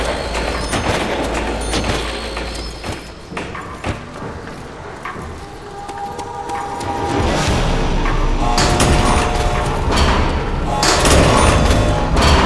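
Booming explosions and rapid gunfire from the Call of Duty: World at War zombies map Der Riese, dense and loud in bursts with heavy low thumps, building to a sustained roar of blasts near the end.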